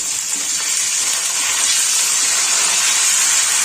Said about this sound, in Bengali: আদা রসুনটা একটু ভেজে নিচ্ছি